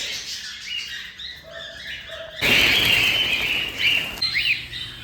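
Caged birds, including black-eye birds, chirp and call in short bursts, with a louder stretch of busy twittering in the middle; faint background noise throughout.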